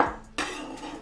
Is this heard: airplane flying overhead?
no